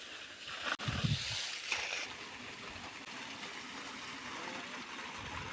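A dusty tractor is washed down with water, giving a steady hissing spray with a brief splashy burst near the start, heard at moderate level.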